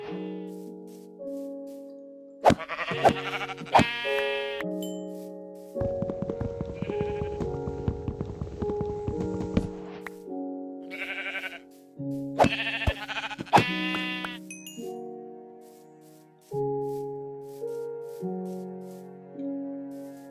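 Repeated Minecraft sheep bleats ring out over a simple synthesized melody, with a few separate bleats spaced through the tune.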